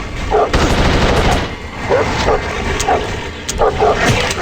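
Gunshots ring out in the video game The Suffering: Ties That Bind, a series of sharp, loud bangs spaced irregularly amid game noise and a low rumble.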